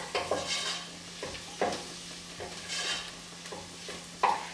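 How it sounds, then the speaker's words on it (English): A spoon stirs a pot of lentil ragu with bay leaves, making soft repeated scrapes and clinks over a faint sizzle, close and fairly quiet. "Just give that a little bit of a stir."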